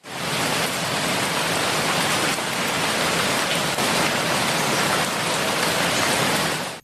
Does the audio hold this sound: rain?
yes